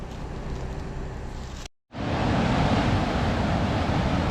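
Water rushing through the released gates of a dam at about 5,500 flow, a loud, steady broadband roar that briefly cuts out, then returns stronger and constant, with no talk.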